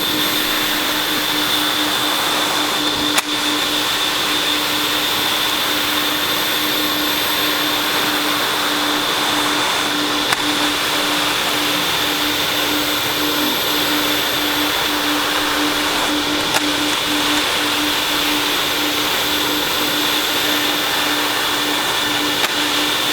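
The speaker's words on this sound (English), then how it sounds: "I'll vacuum it off" A vacuum cleaner runs continuously at close range on an epoxy flake floor, a steady whining drone with a constant hum and no pauses.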